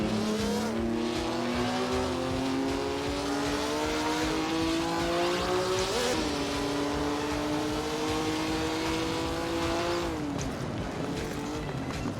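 1955 Lancia and Mercedes Formula One cars race around Monaco in the Assetto Corsa video game. Engines drone continuously at high revs with pitch shifts through gear changes, and several cars are heard close together.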